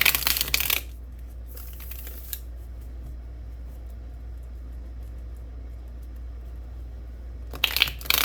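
Tarot cards being shuffled in a quiet room, a short burst of riffling at the start and again near the end, separated by a long near-silent stretch.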